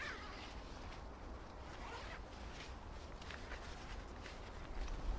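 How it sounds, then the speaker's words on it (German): The zipper on a Begadi BE-X FronTier One bivy bag, a large entry zip made by UK Gate, being pulled in a continuous scratchy run, close and fairly quiet, with no voices over it. "Der Biwaksack hat einen sehr großen Einstieg mit einem hochwertigen Reißverschluss der Firma UK Gate"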